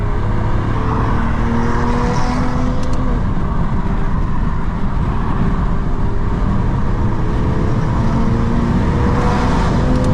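A BMW M340i xDrive with a custom tune accelerates hard, a loud, steady engine roar heard from inside the car, with rising tones climbing through several gear changes.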